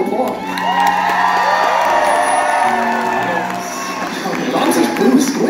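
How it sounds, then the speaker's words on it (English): A concert crowd at a live rock show at The Rave claps and cheers loudly and steadily, with whoops and shouts rising above the applause throughout, and no one speaking over it. "Let's give a round of applause."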